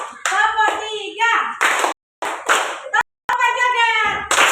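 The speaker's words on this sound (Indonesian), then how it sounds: "tepuk tiga, tepuk empat sampai joget ya" Children in an Indonesian classroom play a counting clap game, with short bursts of hand claps between sung and chanted call-and-response voices and a few sharp slaps.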